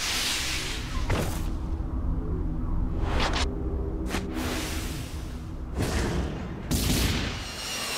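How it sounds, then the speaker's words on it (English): A nuclear explosion in Super Smash Bros. Brawl's Subspace Emissary mode: heavy booming blasts and whooshing bursts roll in several waves, loud and sustained with deep rumble. "Nuclear explosion."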